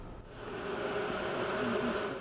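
Bees buzzing steadily and close, a dense continuous drone from a veterans' beekeeping program in Wapwallopen, with no voices.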